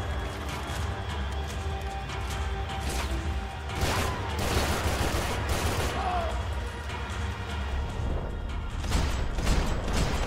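Rapid gunfire in the Max Payne 3 shooter game, bursts of shots crackling over a dense rumbling game soundscape, continuous and fairly loud.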